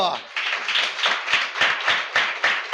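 A church congregation at a Sunday service claps together in a steady rhythmic beat, many hands sounding close and loud, about ten crisp claps over a few seconds.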